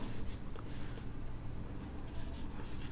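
Pen or pencil writing a math equation by hand on paper, steady soft scratching strokes with short pauses, close and continuous with no talking.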